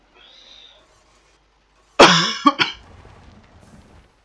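A person coughs loudly and close by, a harsh burst followed by two shorter coughs, then quiet breathing; faint background sound precedes it.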